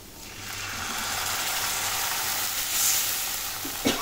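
Water poured into a pan of onion curry hisses in a loud, steady sizzle lasting several seconds, close up with no talk, ending in a few brief clinks.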